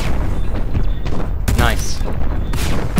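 Locked-on weapons of a mech in the video game MetalCore fire in a dense, continuous barrage of booming blasts and explosions, loud and close, with whooshing projectile sounds and no gap between impacts.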